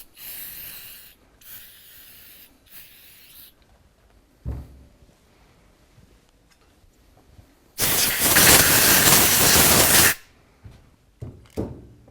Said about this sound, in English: I'm just going to hit it with some brake clean and blow it off here